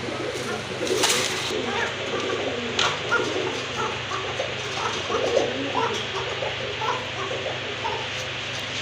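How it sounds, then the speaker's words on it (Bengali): A pair of Koka pigeons coo in soft, repeated throaty calls at close range over a steady background murmur. "তারপর নার্ভাস কবুতরগুলো তারপর কিন্তু ডাকার চেষ্টা করছে"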